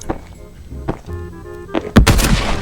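Gunshot in the co-op horror game Fog of Life 2, a sharp loud blast near the end after quieter thuds and game ambience.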